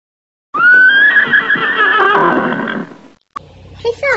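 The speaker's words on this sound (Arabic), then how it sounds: "حصان." A horse gives one loud, drawn-out whinny lasting a couple of seconds, followed by a brief spoken word.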